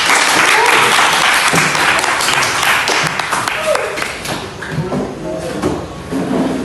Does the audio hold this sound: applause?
yes